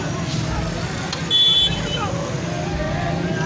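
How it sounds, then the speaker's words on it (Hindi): Steady road traffic flows past a religious procession for the Chehlum of Imam Hussain, a continuous broadband roar of passing cars with a brief horn-like toot and crowd babble underneath. "तमाम ट्रैफिक रवा दवा है"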